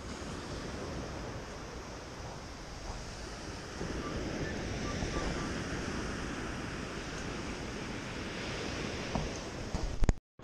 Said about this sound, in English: Waves aren't too bad today.